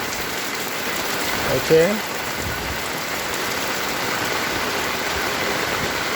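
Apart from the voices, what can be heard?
heavy rain falling on streets in The Gambia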